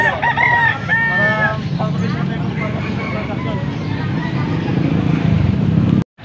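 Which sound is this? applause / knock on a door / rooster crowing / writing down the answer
rooster crowing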